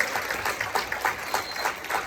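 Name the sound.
audience applause for the jazz combo at a concert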